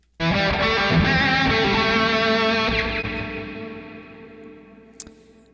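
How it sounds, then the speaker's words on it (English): Electric guitar through an amp simulator with heavy delay and reverb, a thick sustained wash of chords that swells in and slowly decays into trailing echoes. "It's pretty heavily processed, a lot of delay, a lot of reverb"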